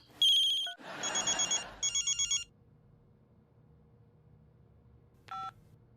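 Electronic phone tones play up close: a beep, a burst of dialing, a rapid warbling ring pattern, then quiet and another short ring.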